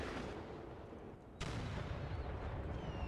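Cannon artillery booms in the battle game Empire: Total War, with a sharp, loud blast striking midway and rolling echoes over continuous battlefield din.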